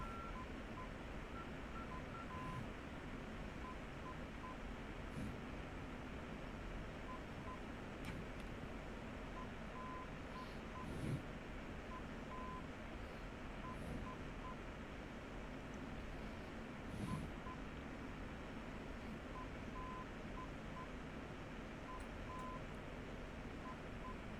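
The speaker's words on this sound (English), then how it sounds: "So the Morse code should match the sheet, right?" Faint, short tone beeps of a navigation beacon ident pulsing in a Morse-like pattern over a constant hiss of F-16 engine or static noise in the DCS flight simulator, with occasional soft clicks.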